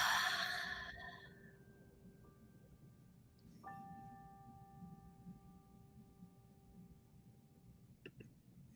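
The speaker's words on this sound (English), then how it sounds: "With a deep breath in and an ah." A single deep breath drawn in and let out on a sustained, soft exhaled ah during an energy-center clearing practice, heard up close over a quiet background in which a faint steady tone lingers.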